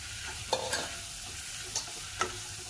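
Crushed gooseberries being stirred into a Kerala-style pachadi, with a few distinct scraping stir strokes and a soft sizzle running underneath throughout.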